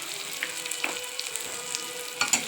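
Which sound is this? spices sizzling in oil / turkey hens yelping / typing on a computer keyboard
spices sizzling in oil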